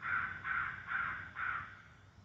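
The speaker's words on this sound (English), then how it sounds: "I heard a crow call from behind me" Four evenly spaced caws from a crow in Indiana countryside during crow hunting season, fairly faint and distant, each call harsh and drawn out over a quiet background.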